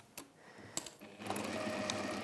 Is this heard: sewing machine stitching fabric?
yes